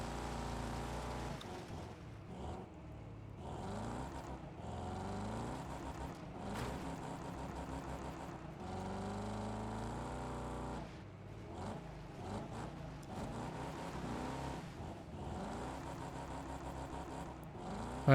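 Racing car engines in Wreckfest 2 rev and whine continuously, rising and falling in pitch through gear changes and acceleration, with a steady, fairly loud drone throughout the lap.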